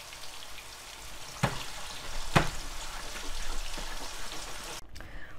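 Meatballs brown in a pan over high heat, giving a continuous crackling sizzle. Two sharp utensil clicks cut through the frying.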